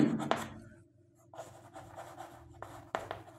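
A pen scratching on paper while writing out a Class 5 math calculation, with close, uneven strokes and taps separated by brief pauses.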